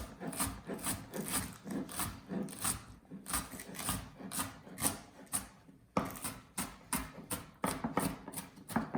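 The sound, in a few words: knife cutting mushrooms on a cutting board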